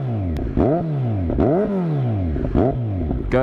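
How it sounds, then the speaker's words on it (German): A Kawasaki Z900 motorcycle, the A2 version restricted to 48 hp, pulls away with its exhaust rising through three strong rev sweeps, each climbing in pitch before dropping at a gear change, loud and close with no talking. "der Auspuff klingt geil"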